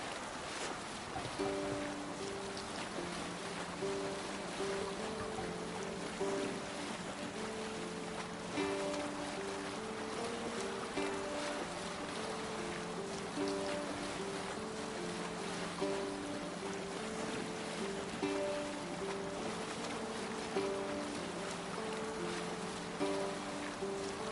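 A Viking longship sails out on the open sea in Assassin's Creed Valhalla, with a steady wash of water and wind along the hull and a constant rushing bed of sound, joined by a low, rhythmic sung chant throughout.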